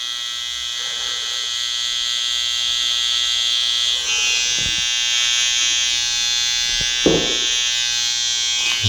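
An electric hair trimmer tidies up sideburns during a haircut. A steady, close, high-pitched buzz runs throughout, with a few brief knocks and shifts in tone as it moves against the hair.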